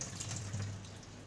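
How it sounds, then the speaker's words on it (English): Scallions are rinsed under a running kitchen tap, a steady soft stream of water splashing faintly and continuously for a moment. "So I wash my scallion just with water, no soap, water."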